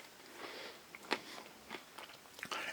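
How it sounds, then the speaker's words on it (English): Crunchy poop-themed breakfast cereal chewed close up, with several irregular crunches and biting sounds that are soft overall, no talking. "it's very hard to chew."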